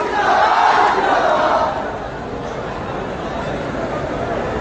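A rally crowd in Belaganj, Bihar cheers and claps in welcome. The noise is loud and dense at first, then eases into a steady, broad roar of cheering.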